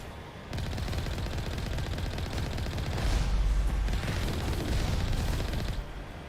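Sustained rapid gunfire strafing enemies in the video game Mass Effect Legendary Edition, a dense continuous roar of automatic shots lasting several seconds with no talk over it.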